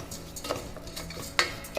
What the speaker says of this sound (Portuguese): vamos colocar ele aqui na panela, que já está começando a ficar quente, e vamos dar uma fritada no arroz